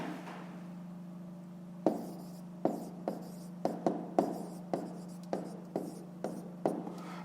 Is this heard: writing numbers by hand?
yes